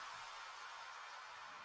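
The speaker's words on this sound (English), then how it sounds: "Last thing I added here was this crash" A crash cymbal in a progressive house production sustains as a steady bright wash of hiss, fairly faint and alone, cutting off sharply at the end.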